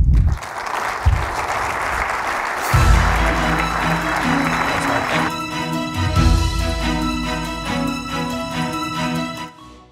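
An audience applauds steadily for Dr. Marc Johnson at a State of the University address, a dense, sustained clapping that swells and holds across the room before tapering off, while music plays underneath.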